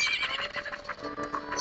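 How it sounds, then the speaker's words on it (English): A horse neighs and whinnies in The Legend of Zelda: Majora's Mask, a short, clear, high whinny heard alone with clip-clop hoof sounds. "Ah, what a beautiful horse."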